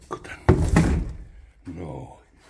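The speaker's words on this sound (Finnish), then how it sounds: "Heitetään koko laatikko tänne." A box of trash tossed into a waste bin lands with a heavy thunk and rattle, followed by a shorter knock, close by, with someone talking in Finnish around it.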